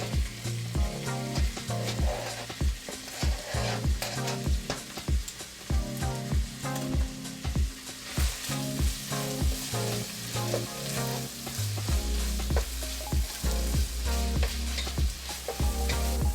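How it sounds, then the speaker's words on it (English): A sizzling pan of spaghetti Bolognese as chopped tomatoes go in, steady frying hiss with rhythmic stirring and scraping, while music plays throughout. "Now I'll add in my chopped tomatoes,"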